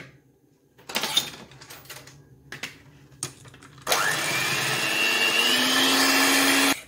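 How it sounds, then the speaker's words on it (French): An electric mixer whips egg whites with 20 g of sugar for a Black Forest log cake: a few clinks and knocks of kitchen handling, then the mixer switches on with a loud, steady whir that holds to the end. "je monte en neige mes blancs d'œufs additionnés de 20 g de sucre"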